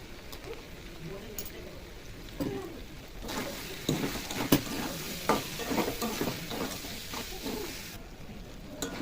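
Pieces of boneless chicken fry in oil in a pan while a spoon stirs them. There are scraping stirs and a steady sizzle that grows livelier midway, with light background noise.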